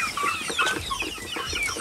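Chickens and roosters clucking in a pen, a busy overlapping chorus of short calls at moderate distance with no talk.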